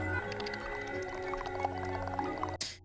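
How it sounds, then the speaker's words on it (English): Eerie, wavering tonal calls like whale song, film alien sounds from Signs (2002), overlap in a dense, continuous stream, ending in a sudden burst of noise. "It's like aliens mixed with like whale sounds."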